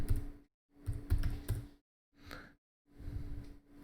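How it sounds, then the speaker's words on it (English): Someone types on a computer keyboard in four close, quick bursts of clacking keystrokes, separated by short silent pauses. "So let me just type that in."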